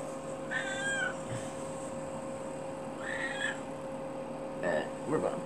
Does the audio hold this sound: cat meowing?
yes